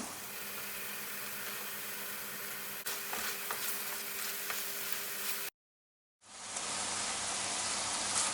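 Mushrooms with pepper and rosemary sizzle steadily in a hot pan after wine is poured in, a constant bubbling hiss that cuts out briefly before resuming just as loud.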